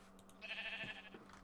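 A single short sheep bleat from a video game, faint and alone against a quiet background.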